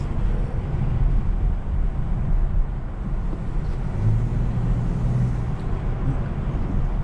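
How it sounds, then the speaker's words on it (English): A 2020 Dodge Charger GT engine hums steadily with a low droning rumble, moderately loud and continuous, mixed with road and wind noise. "Engine sound"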